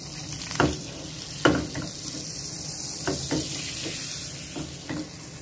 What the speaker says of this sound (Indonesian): aku manasin mentega